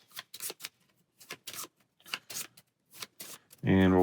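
Cards from the Valeria Card Kingdoms board game get shuffled in a few quick, crisp riffles and taps close by, followed by a short loud burst at the end.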